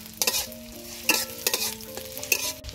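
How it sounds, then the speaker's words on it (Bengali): Chopped onion, garlic and green chili fry in mustard oil in a wok, a steady sizzle broken by the scrape and clatter of a spoon stirring, close and alone without voices. "রসুন পেঁয়াজ কাঁচামরিচ খুব ভালোভাবে ভেজে নিব।"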